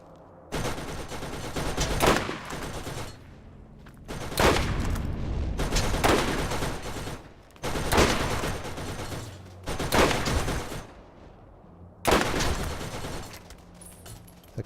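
Automated turrets in Borderlands fire in four loud, dense bursts of rapid gunfire, each lasting a couple of seconds and separated by quieter pauses.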